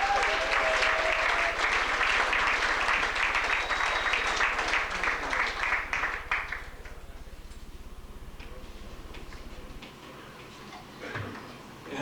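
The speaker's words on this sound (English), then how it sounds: "Let's hear it for Bill White." An audience applauds and cheers to welcome a performer on stage, a loud, dense wash of clapping for about six seconds that then thins into quieter room noise with a few scattered sounds.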